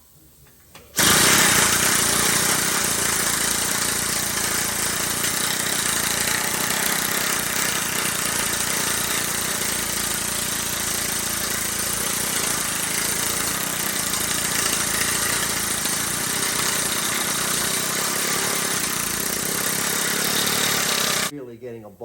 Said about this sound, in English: I'm gonna do a little shaping here with my Bailey planishing hammer.